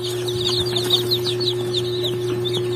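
Three-day-old native chicks and chickens on a farm make rapid, high-pitched peeps with a few soft clucks. The sounds are close and continuous over a steady electrical hum.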